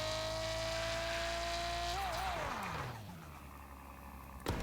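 Lada Priora engine in the Car Parking mobile game, a steady synthetic drone that bends in pitch and winds down midway, then a short knock near the end, with no talking.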